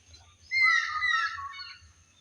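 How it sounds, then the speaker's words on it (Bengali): A bird calls beside a pond in the early morning: one bright, warbling call rises clearly for about a second and a half over a quiet background, then fades. "পাখির আওয়াজ শুনতে পাচ্ছেন"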